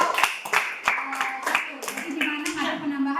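A class of students claps in a short burst of uneven hand claps during a baking lesson, with voices talking over and among the claps.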